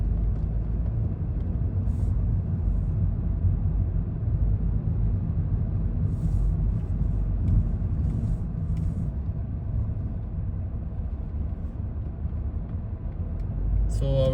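Steady low rumble of road traffic heard from inside a car driving through Riyadh in the afternoon, a continuous muffled engine and road drone with faint clicks and small noises.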